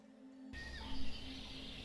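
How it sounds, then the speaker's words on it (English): Flock of birds screeching in a played sound effect, a dense, shrill wash of high cries that begins abruptly and continues steadily, fairly loud, with no talking. "A bit more of a screaming effect than a chirp, but there are definitely flocks of bird"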